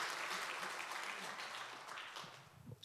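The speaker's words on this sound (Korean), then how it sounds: "다시 한번 좋으신 하나님께 감사와 영광의 박수" A church congregation at a revival meeting claps in praise, a quiet, somewhat distant wash of applause that tapers off near the end.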